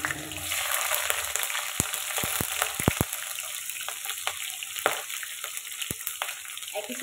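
Green chillies frying in a hot pan, a steady close sizzle with a few sharp spatula clicks and taps against the pan.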